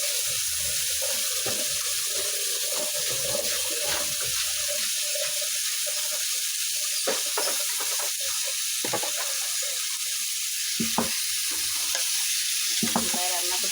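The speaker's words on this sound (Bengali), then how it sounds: "ভুড়ি রান্না করতেছি আজকে আমরা।" Beef tripe sizzles loudly in a pan over a stove, a constant hissing fry broken by scraping and clinks as it is stirred, with no voices.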